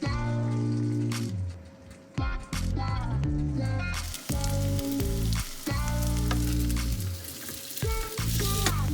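Vegetarian burger patties fry in an already hot pan with olive oil, giving a steady sizzle that sits beneath loud, tonal background music for the whole stretch.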